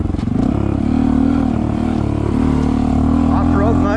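A Honda CT125 motorcycle engine drones loud and close on an off-road climb, holding a steady low throb in first gear with slight rises in revs.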